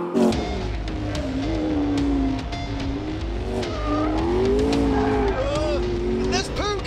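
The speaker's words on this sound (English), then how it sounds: "It's spinning its wheels in sixth!" A McLaren P1 supercar takes a corner at speed, its engine roaring loud and close with shifting pitch, tires squealing as the wheels spin; excited voices are audible over the noise.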